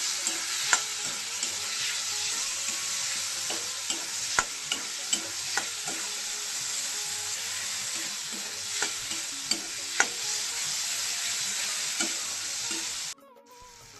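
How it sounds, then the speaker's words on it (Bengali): Chopped tomato being stirred into fried spice paste for a paneer and broccoli dish, a loud continuous sizzle broken by regular scraping strokes of the spoon, cutting off abruptly near the end. "ভালো করে নাড়িয়ে চেড়ে নিচ্ছি"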